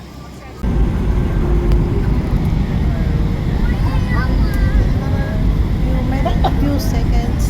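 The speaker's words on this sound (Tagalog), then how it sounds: "Jumbo jet." Large jumbo jet airliner coming in to land near Taipei, Taiwan, heard from inside the cabin as a steady loud engine and airflow roar that jumps up in level early on and holds throughout.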